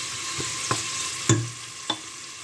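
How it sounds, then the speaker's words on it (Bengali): Chopped large onion dropped into hot oil in a pan, giving a steady bright sizzle with a few sharp crackles and stirring knocks close by. "এখন আমি কেটে রাখা বড় একটা পেঁয়াজ দিয়ে দিচ্ছি পেঁয়াজটাকে আমি একটু ব্রাউন কালার করে নেব"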